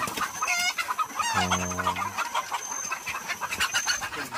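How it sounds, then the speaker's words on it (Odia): Chickens cluck and squawk on a free-range country (desi) chicken farm, with an agitated, flapping flock close by and a voice briefly talking over the birds. "କୁକୁଡ଼ାଗୁଡ଼ା ଏତେ ଉଡ଼ୁଛନ୍ତି ନା, ଧରିବା ମହା ମୁସ୍କିଲ ହେଇଯାଉଛି।"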